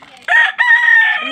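A chicken lets out one loud, close call, a sustained tonal crow lasting about a second with a brief break partway through, heard alone.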